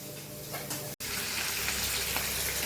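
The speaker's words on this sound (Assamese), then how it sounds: "এয়া কেৰাহীত মছলা দিয়া হৈছে তৰকাৰী বনাবলৈ, মাছৰ লগত আঞ্জা।" Spices fry in a wok for a fish curry, a dense steady sizzling hiss close by, broken by a brief sharp cut-out near the start before continuing evenly.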